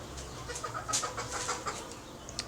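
Backyard hens cluck in short, bright bursts, several birds near the listener with one sharper squawk partway through, over quiet outdoor background.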